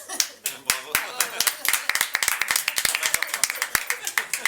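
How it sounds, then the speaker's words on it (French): Studio audience on a French TV show clapping for guests, a scattered patter of hands that starts sparse and thickens into brisk, closely miked applause, with voices faintly underneath. "Je sais pas si on applaudit les invités ou le fait qu'ils se soient pas trompés de prénom."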